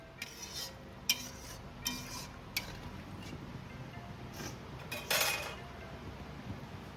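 Fried bhetki fish and potato pieces are dropped into a pot of fish curry, giving a few soft clinks and splashy stirring knocks over a steady low simmer, with one brief louder burst near the end.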